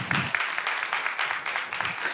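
A church congregation, adults and children at a midweek family service, applauds steadily for about two seconds, a dense even patter of many hands close by with no speech over it.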